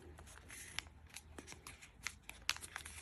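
Paper being folded in half again during a hands-on science activity, a quiet run of soft crinkles and brief rustling crackles with a few sharper crisp creases, close by and with no talking.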